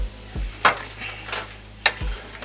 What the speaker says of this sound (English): we're gonna go in with a little bit of our beef broth, just enough to deglaze the pan